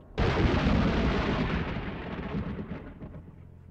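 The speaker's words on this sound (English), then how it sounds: "The sound of a monstrous explosion rang out, accompanied by a violent quake that rocked the very foundation of the school." A monstrous explosion and violent quake shaking a school in the video game Corpse Party: a sudden loud boom that hits abruptly, then rolls into a long rumbling decay fading over about three seconds, with no voices.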